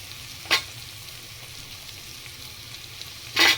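Ginger-garlic paste sizzles with browned onions in a hot pan, a steady soft frying hiss broken by two brief louder bursts of stirring.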